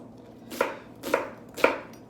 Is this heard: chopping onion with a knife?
yes